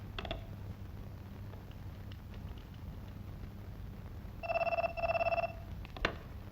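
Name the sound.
telephone ringing, call to the commissioner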